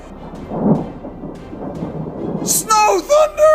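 Low thunder rumbles under rain during a night lightning storm in Florida, building then fading, followed by a few loud bursts of a voice near the end.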